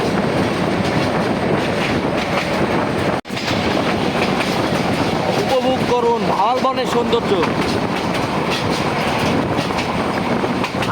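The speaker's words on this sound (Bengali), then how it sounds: "তুমুল বৃষ্টি নিয়ে ছুটে চলছে তিস্তা এক্সপ্রেস" Tista Express passenger train rolling along in heavy rain near Rajendrapur, Gazipur, with a steady loud roar of wheels and rain and rapid clickety-clack rail joints, plus a brief squealing passage midway; a voice speaks over it.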